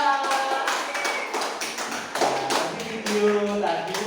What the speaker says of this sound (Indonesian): kasih tepuk tangan buat Mbak Dinda